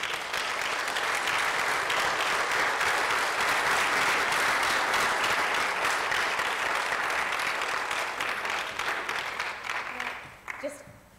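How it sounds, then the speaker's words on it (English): Audience at an education conference applauding after a keynote, a full sustained roar of clapping that holds steady for about nine seconds, then thins out and fades toward the end. "I think your applause said it all"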